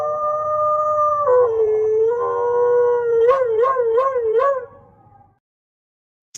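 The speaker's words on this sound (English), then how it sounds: "And there's the dog." A dog howls loudly and close by in one long, wavering cry that swoops in pitch and breaks into a quick series of warbling pulses before trailing off into silence, with no talking over it.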